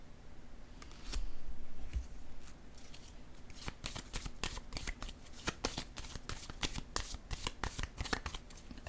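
Tarot cards being shuffled and drawn, rapid close riffling and flicking that grows into a dense, steady patter of card snaps with no voices.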